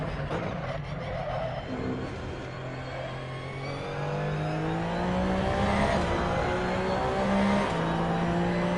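Porsche race car in the Assetto Corsa racing game, PS4, its engine rising and falling through gear changes with rising harmonic whine, continuous and close, growing louder toward the end.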